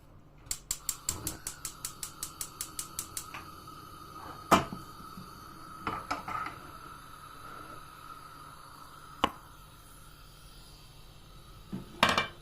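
A pot of stuffed red peppers goes onto a kitchen stove: a quick run of sharp clicks comes first, then a few separate metallic clunks and knocks spread out over a quiet background.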